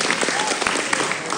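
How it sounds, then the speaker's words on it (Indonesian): An audience claps at a university stand-up comedy show, a brief dense burst of applause filling the hall. "boleh tepuk tangan?"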